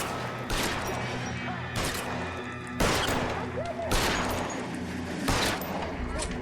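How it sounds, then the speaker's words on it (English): Gunshots in the LA Noire video game, five or six loud separate blasts spaced about a second apart over a steady background hum, with faint voices in places. "I'm shooting them."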